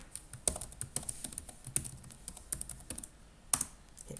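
Someone types a password on a computer keyboard: a dozen or so close, light key clicks in an uneven rhythm with a few sharper strikes, and no talk.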